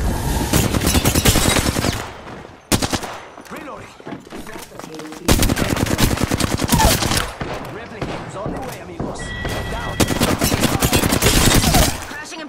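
Dense automatic gunfire from an Apex Legends firefight, loud bursts of rapid rattling shots broken by brief pauses, with sparse in-game voice lines beneath.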